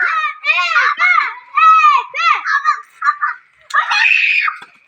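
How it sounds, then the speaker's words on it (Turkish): Children shout and scream excitedly for a running race, several high voices overlapping in loud bursts of cheering with short pauses between, close by. "Bağırın bağırın taraftarlarınızı."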